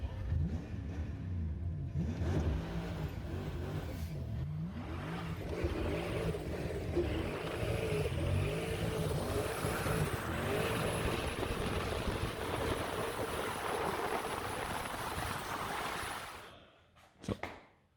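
A 700 hp Mercedes 190e held in fourth gear accelerates hard, its engine note rising and droning loudly and steadily for about sixteen seconds before easing off and fading, with no talking.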